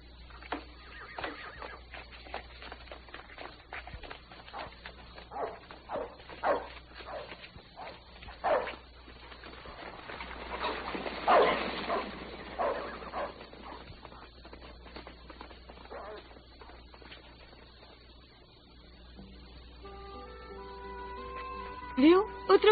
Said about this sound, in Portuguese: Cães idiotas.